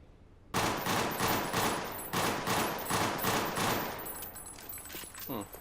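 Sustained rapid gunfire from the MindJack video game, with loud bursts of repeated shots in quick rhythm across several seconds, starting abruptly and fading somewhat toward the end.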